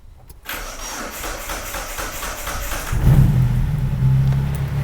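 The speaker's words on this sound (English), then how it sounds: "So we're gonna let me just put the jump pack on. Right, let's see if it will start up." A 1995 Mitsubishi Libero engine, with a lost-power distributor fault, cranking on a jump pack and catching, the starter whir giving way to a louder, steady low idle rumble, close up.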